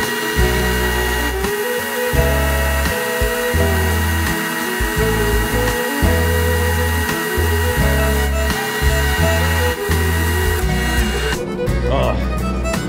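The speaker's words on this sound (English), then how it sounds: "I had problems with this belt sander." A belt sander that had been breaking belts runs loudly and steadily nearby, its motor drone rising and falling as pressure on the workpiece changes.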